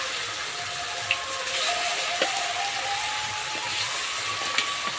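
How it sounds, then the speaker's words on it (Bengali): Pangas fish sizzles in hot oil in a pan for a Bengali tel jhal curry, a steady close crackling hiss with occasional small pops throughout. "তেলটা খুব সুন্দরভাবে গরম হয়ে গেছে, এখন এই মাছগুলো দিয়ে ভেজে নেব।"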